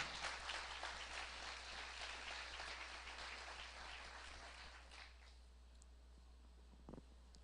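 A church congregation claps through a worship service, dense applause close by that slowly thins and fades out.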